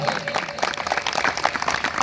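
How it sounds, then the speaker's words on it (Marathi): An audience at a kirtan about Ramabai and Dr Babasaheb Ambedkar claps in a steady, dense burst of hand claps from many people, fairly close and filling the whole moment, with a faint voice underneath. "रमाईसाठी टाळी वाजवा एकदा"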